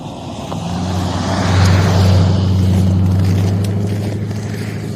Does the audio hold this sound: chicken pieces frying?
no